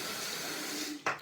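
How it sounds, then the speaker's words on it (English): Water runs steadily from a tap with a continuous hiss, then stops with a brief splashy clatter near the end. "Sorry about the water running so long."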